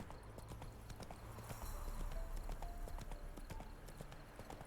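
In The Witcher 3, a horse's hooves clip-clop along a road at a steady trotting rhythm, faint and continuous, with quiet ambient game sound underneath.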